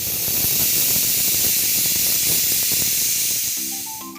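A loud, continuous hiss of steam rushes out of a pressure cooker cooking pea pulao, then eases off near the end.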